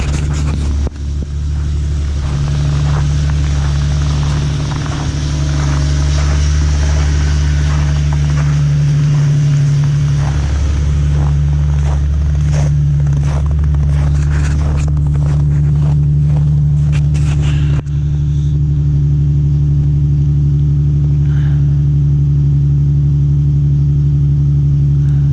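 A Mercedes GL350 Bluetec and an Infiniti G37X idle after a cold start, giving a loud, steady low engine drone. The tone shifts abruptly partway through to a smoother, even idle.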